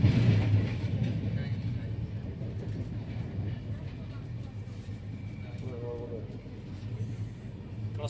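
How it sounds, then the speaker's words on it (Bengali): The Dhauli SF Express stands at Cuttack station, a low steady rumble of the halted train and platform bustle continuing under a person talking. "এখন ট্রেন এসে দাঁড়িয়ে আছে কটক স্টেশনে, এই হচ্ছে স্টেশন।"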